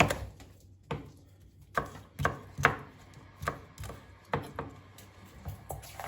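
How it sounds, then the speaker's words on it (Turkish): Knife chopping green peppers on a cutting board, sharp irregular taps about one every half second, close and clear with no talk. "Yeşil biberlerim de aynı şekilde doğruyorum."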